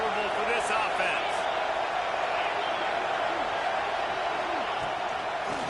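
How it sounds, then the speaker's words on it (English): Broad, steady stadium crowd roar in a College Football 26 video game, a constant wash of noise with faint whoops, running unbroken under the play-by-play commentary. "This crowd trying to make life miserable for this offense."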